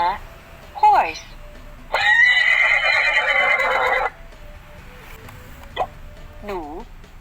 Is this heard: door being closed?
no